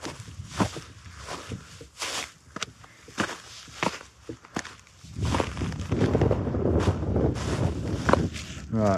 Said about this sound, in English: Right, so windy over there.